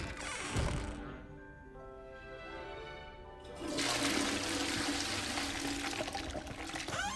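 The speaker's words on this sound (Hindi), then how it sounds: "तो पानी का आवाज आ रहा है।" Flowing water in the game Hogwarts Legacy: a gushing pour gives way to a thinner trickle, then a loud, steady rush of water returns and continues, with no one talking.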